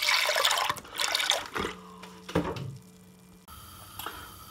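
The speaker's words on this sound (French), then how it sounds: "dans un faitout, on met 1 litre de lait" A litre of milk is poured into a cooking pot, a close liquid splashing and gurgling that tapers off into small drips and a quiet tail.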